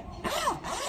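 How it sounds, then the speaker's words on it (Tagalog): A zipper on an ethnic-material sling bag being pulled open in one quick smooth stroke, close and clear. "Oh, smooth pa yung zipper niya, guys."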